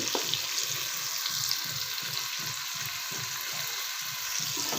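A steady, hissing sizzle of a tempering frying in hot oil for sambar, with soft rhythmic scraping or stirring pulses underneath.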